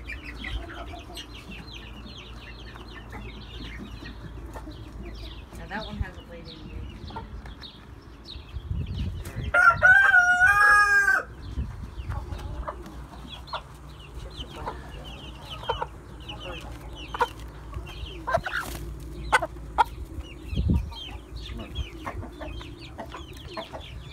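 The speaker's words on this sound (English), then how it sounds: "Okay, we let one hen out. And we're going to get the other one out." Mother hens and month-old chicks cluck and cheep in a coop as the hens are being moved out, steady scattered clucks and peeps with a brief burst of louder squawking partway through and faint movement noise.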